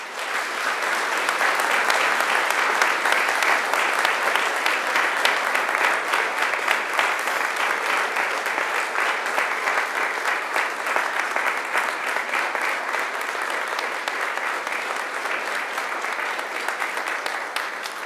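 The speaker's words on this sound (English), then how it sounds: "And now I invite you to give them a mighty round of applause." Graduates at a Macquarie University graduation ceremony applaud their families and friends: a dense, steady round of clapping from a large hall crowd, sustained evenly for about eighteen seconds without any speech.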